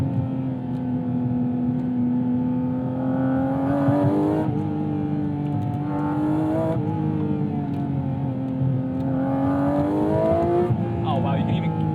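A Manthey Racing Porsche GT4 RS on track with its engine droning loudly and steadily, the pitch swelling and climbing each time the throttle is pressed.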